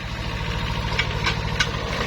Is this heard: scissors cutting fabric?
no